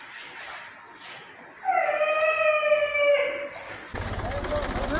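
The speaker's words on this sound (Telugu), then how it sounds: "ఆపరేషన్ అయిన కుక్కలు" A dog lets out a long, wavering howl lasting a couple of seconds, near and fairly loud, followed by a burst of harsh noise; sterilised dogs at an animal birth control centre.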